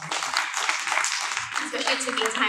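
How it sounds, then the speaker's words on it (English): An audience at a summit panel applauds, a steady wash of many hands clapping at moderate volume through the whole moment, with faint voices underneath. "Let's give our panelists a round of applause."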